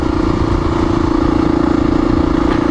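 Honda XR400R dirt bike engine idling close by, a loud, even, rapid thumping pulse that holds steady with no talk.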